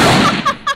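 Two sharp gunshots fired in the dark, each a short loud crack with a brief ring, spaced about a quarter second apart after a stretch of rumbling noise.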